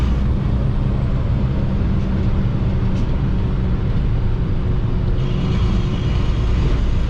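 An International 4400 truck with a DT570 engine rolls along on a bouncy ride, a loud continuous rumble of engine and road noise with rattling bumps from inside the cab.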